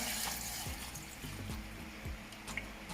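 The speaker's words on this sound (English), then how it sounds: "And I'm gonna put some water." A soft, steady stream of water pouring for a few seconds into a blender with cut ginger, fairly quiet and continuous, with no voices.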